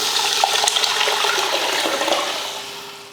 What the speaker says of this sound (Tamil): அடுத்து புளியும் தக்காளியும் கரைச்சிருந்தாலே அதை ஊற்றிடலாம்